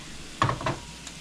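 Hubbard squash with dried cranberries and nuts gets stirred in a pan, a short scraping burst of two quick strokes over a faint steady sizzle, close and alone without talk.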